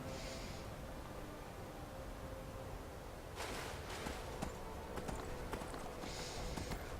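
A horse gallops in the video game Skyrim, with rhythmic hoof clip-clops that start faint and grow louder and more insistent over a steady ambient background, with no talking.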